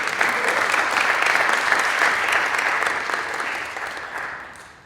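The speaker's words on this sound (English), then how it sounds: "Let's give our presenters a round of applause, please." Sustained applause from the audience at an LA City Charter Reform Commission meeting, honoring the presenters; steady dense clapping that holds for several seconds before slowly thinning and fading.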